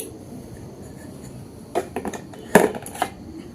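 Metal biscuit pan set down into hot sand inside a clay oven for baking, with a few clanks and scrapes of metal against sand and clay close by, the sharpest knock near the middle, no talk.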